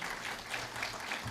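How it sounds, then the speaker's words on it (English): A graduation crowd applauds in a faint, distant wash of steady clapping from many hands, continuous and even throughout. "I want a round of applause for Andre."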